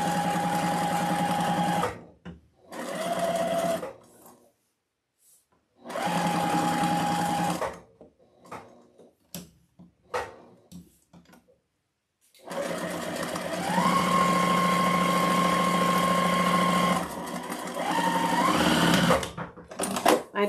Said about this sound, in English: Remember, we're sewing trim over this.